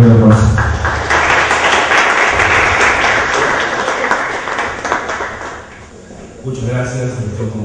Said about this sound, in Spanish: recibamos un fuerte aplauso